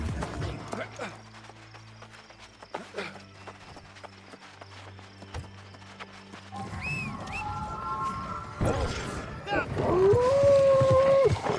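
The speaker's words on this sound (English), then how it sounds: "Did you hear the roars and howls?" Beasts howling in the video game New World, a rising drawn-out howl emerging late over clattering footsteps and ambient game noise, with a voice heard nearby.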